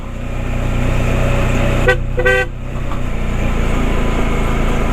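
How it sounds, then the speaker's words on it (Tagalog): Two short horn toots from a motorcycle on a mountain road in the Cordillera, a brief beep then a slightly longer one, ring out over a steady rumbling engine drone. "Busina, busina."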